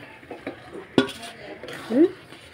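A spoon scrapes and clinks against a pot as potatoes and spiced meat are stirred together, with a sharp knock near the middle and a louder scrape toward the end.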